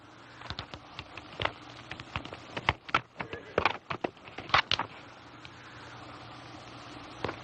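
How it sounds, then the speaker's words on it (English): A horse's hooves clip-clop in an uneven series of sharp knocks, clustered most densely in the middle, then fall away into a quiet background hum. "Here's the preacher's horse."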